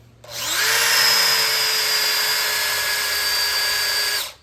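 A power drill bores into a used, burnt torque converter, spinning up quickly to a steady, loud, high whine that holds for about four seconds before winding down.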